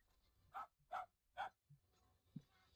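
A balloon dog in the Killer Klowns From Outer Space video game gives three quiet, evenly spaced barks, followed by a couple of softer yips.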